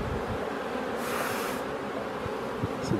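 Honeybees buzzing around an open hive during a beekeeper's weekly inspection, a continuous close droning hum with a few louder passes of individual bees near the end.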